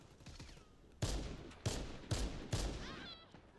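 Gunfire in the Warface video game, four sharp, loud shots spaced about half a second apart, each followed by a brief ringing tail, with no talk over them.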